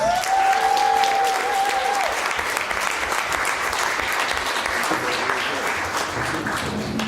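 Loud, sustained audience applause at a comedy show fills the room with dense clapping, joined by a brief high whistle near the start.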